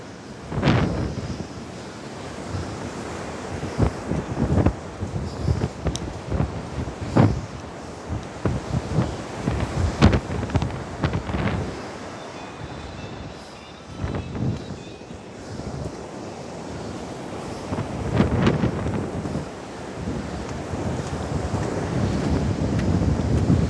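Strong wind buffets the microphone while heavy surf crashes and surges along a beach during Typhoon Maysak, a continuous loud roar with repeated breaking waves.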